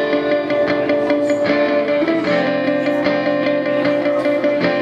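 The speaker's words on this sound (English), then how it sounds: "add this little tremolo picked pattern over it, which dry is going to sound like this" A dry electric guitar plays a quick tremolo-picked pattern, loud and close, with rapid repeated notes over a sustained harmonic bed and no voices.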